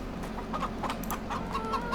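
Farmyard hens in Farming Simulator 22 give a few quick clucks over a constant low background drone, close and clear, no voices.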